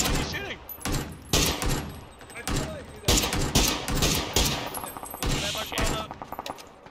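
Loud bursts of automatic gunfire in PUBG, repeated volleys and single shots crackling close by across the whole stretch, with a voice talking at times in between.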